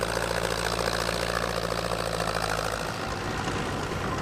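A little Ferguson tractor works a dry, hard field, its engine a close, continuous throbbing drone with a steady low beat that shifts and eases slightly toward the end.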